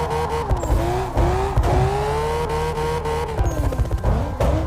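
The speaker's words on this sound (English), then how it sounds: "just hold your gas and your brake at the same time, and your car will slowly go back" Engine revving steadily with a tire-squeal whine in CarX Drift Racing as the car creeps backward under held gas and brake, continuous and loud with pitch sliding up and down, no voices.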